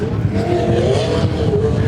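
A sprint car engine whining and droning during a speedway race, a loud, close, steady mechanical roar with a sustained tonal whine holding through the whole short stretch.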